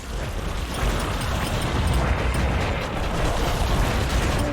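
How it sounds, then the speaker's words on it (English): A rapid barrage of video game explosions in Bastion, a continuous rumbling roar of overlapping booms and bursts that stays loud and dense for the whole stretch. "Ooh, that's a lot of explosions."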